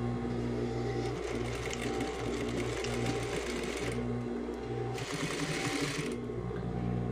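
A sewing machine stitches fabric with a steady, close mechanical whirring hum, running continuously with slight changes in speed.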